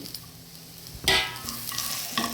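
Okra (ladies finger) frying with cumin and garlic in a pan for a South Indian chutney: a steady close sizzle with a loud scraping stir in the middle and another near the end.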